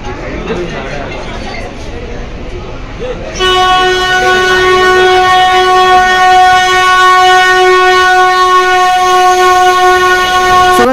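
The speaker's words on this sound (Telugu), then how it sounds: "సో చూడొచ్చు ట్రైన్ కూడా వస్తుంది." A sustained, loud horn of the Ooty toy train sounds for several seconds as it arrives at the station after some background noise, holding steady until the end.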